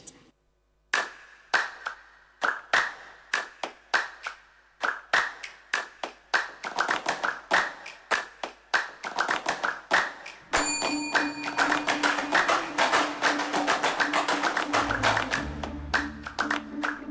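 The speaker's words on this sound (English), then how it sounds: "Clap of joy." Hands clapping at an anniversary celebration, starting as scattered single claps that quicken and build into dense, sustained group applause with music entering near the end.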